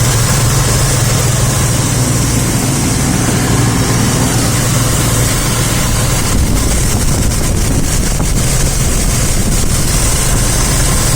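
A 1941 Chevrolet engine runs steadily after an alternator wiring repair, a loud, even drone with wind buffeting the microphone.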